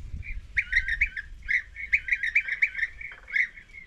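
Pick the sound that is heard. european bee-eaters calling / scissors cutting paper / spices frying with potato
european bee-eaters calling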